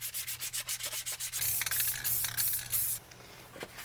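Rhythmic hand sanding of paint between coats on vintage trailer handles, quick scratchy back-and-forth strokes at first, then longer continuous rubbing, close and fairly quiet.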